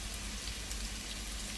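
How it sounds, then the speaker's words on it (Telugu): Green chillies, onion and curry leaves frying in a pan: a steady, even sizzle and crackle of hot oil, close and continuous, with no talking. "నేను పచ్చిమిర్చి, ఆనియన్, కరివేపాకు వేసుకున్నాను. అవి కూడా ఇప్పుడు ఫ్రై అవ్వాలి."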